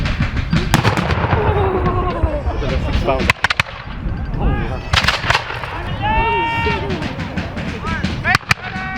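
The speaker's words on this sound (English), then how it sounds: "Los cañones." Cannons fire at an outdoor Revolutionary War reenactment in Huntington Beach, with a couple of sharp, booming reports cutting through nearby crowd chatter and voices.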